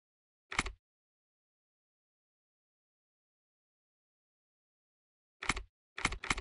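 Computer keyboard keys clicked in short, sparse bursts: one isolated tap near the start, then a quick cluster of three presses after a long silence, close and fairly quiet, with no talking.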